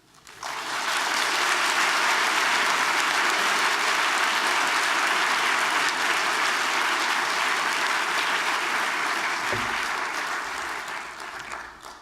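Sustained, dense applause from a large lecture audience welcoming visiting artist Ann Hamilton, swelling quickly and holding steady for about eleven seconds before tapering off.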